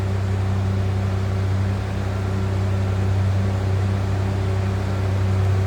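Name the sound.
1988 Ford Bronco II stock 2.9 liter V6 engine running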